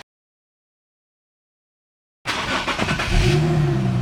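After a stretch of silence, an Infiniti G37 fitted with a new budget exhaust cranks and fires up, settling into a loud, rumbling idle close by with a slight rise in revs.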